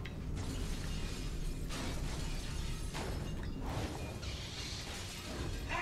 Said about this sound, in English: I have shattered glass in Star Wars.